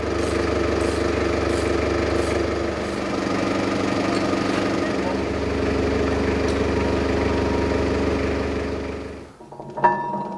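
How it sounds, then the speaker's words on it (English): The gear wheel in the steering drive of a Matilda tank turns with a continuous mechanical grinding hum over an engine-like rumble, then cuts off near the end, leaving a faint knock. "there's a bit of noise coming from the gear wheel as we turn it"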